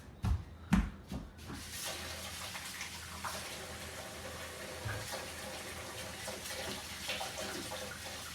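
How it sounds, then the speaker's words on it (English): Hands are washed under a running tap: a couple of sharp knocks at the start, then a steady soft splash and gush of water, close and fairly quiet, with no talking. "The first step to do anything is wash your hands."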